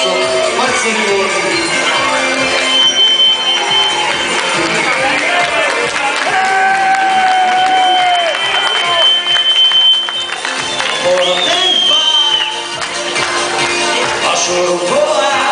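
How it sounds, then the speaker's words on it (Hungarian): A loud crowd at a New Year's Eve show claps and cheers steadily after a rock-and-roll guitar number, with whoops and shouts mixed through the dense, continuous applause. "Szerintem megérdemeltek egy tapsot."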